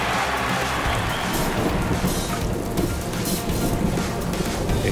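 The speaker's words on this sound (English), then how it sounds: "Comes the rain." Heavy rain pours down at Wimbledon during a men's final, a dense, constant hiss of drops drumming on surfaces that fills the whole clip with no talk.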